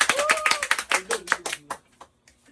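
A classroom of students claps for a classmate, a burst of sharp hand claps that thins out into a few scattered taps, with voices talking over the start.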